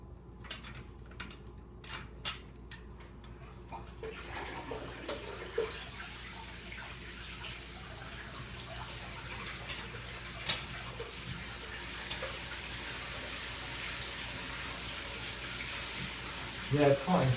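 Water gushes steadily into a spa tub from its hot and cold valves, a broad rushing hiss that swells after a few seconds and keeps running while people talk nearby.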